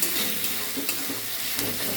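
Spices sizzle in oil in a pan for Bengali chicken curry, a continuous close frying hiss with stirring scrapes throughout.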